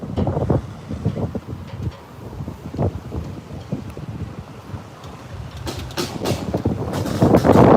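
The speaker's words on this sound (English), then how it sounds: "It is really windy, as you'll see with the flags when I turn this around." Gusty wind buffets the microphone outdoors near flags at a residents' protest, with rumbling, uneven blasts that swell louder toward the end, with no talking.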